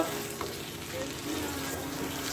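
Egg podimas with ginger and spring onion being stir-fried gives a steady sizzle with spoon scrapes in a short, continuous stretch and no talking.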